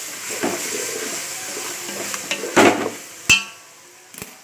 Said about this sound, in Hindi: अब मैं इसको थोड़ा हिलाऊंगी मसाला मिक्स होने तक।